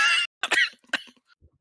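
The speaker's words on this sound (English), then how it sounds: "Pretty bad cough I just heard." A single harsh cough, close and loud, followed by a couple of shorter rough bursts and a faint throat noise in otherwise quiet surroundings.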